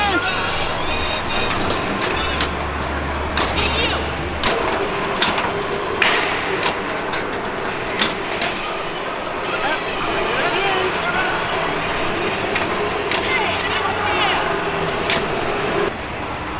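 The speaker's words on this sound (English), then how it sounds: "these are some really cool old Atari wide-body pinball machines" Old Atari wide-body pinball machines play in a busy pinball hall on the Las Vegas Strip, with sharp flipper and ball thumps over a steady arcade din while people talk nearby.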